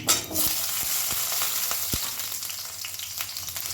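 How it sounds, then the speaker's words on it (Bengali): Diced potatoes frying with curry leaves in a pan over a low flame: a dense, close, continuous sizzle with a few soft stirring knocks and no talking. "আলুটা একটু ভালো করে ভাজা ভাজা মতন করে নেব"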